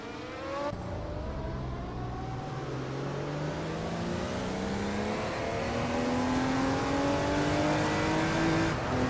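Race car engines in a video game race, including a 1977 Porsche 936, whine and rise in pitch as cars accelerate, with several engines overlapping at a steady moderate level and faint tire noise.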